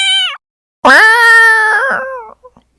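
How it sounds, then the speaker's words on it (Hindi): A cat yowls loudly up close outside a house: a short cry, a pause, then a long, wavering wail that trails off into small sounds. "तभी घर के बाहर से एक बिल्ली की जोर जोर से चिल्लाने की आवाज आती है।"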